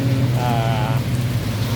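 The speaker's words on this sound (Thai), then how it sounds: "ท่ามกลางสายฝนอย่างนี้อยู่ในร่มนะครับ" Steady rain falls over an outdoor solar panel installation site where mono 340 W panels are being mounted on a frame, a loud continuous hiss of drops with a low hum underneath and no talk.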